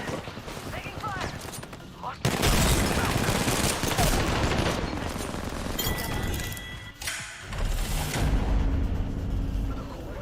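Loud, close gunfire in a shooter video game: dense rapid bursts and volleys of automatic fire, with shattering, glassy clinks and brief lulls between heavy barrages.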